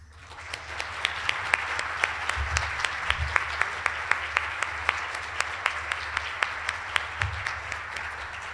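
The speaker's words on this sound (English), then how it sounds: "take a moment and just give Karen a warm round of applause" A conference audience at a youth symposium keynote gives a warm round of applause, a steady wash of many hands clapping throughout with sharper individual claps standing out, moderately loud and sustained without talk.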